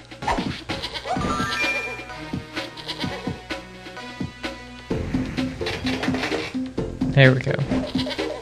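Cartoonish goats bleat repeatedly in a Powerpuff Girls video game, several short wavering calls mixed with game effects and music, while a player talks over them in places.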